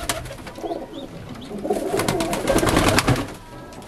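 Domestic white pigeons coo repeatedly in low, rolling calls, with the bubbling coos overlapping at close range through steady background noise and no talking.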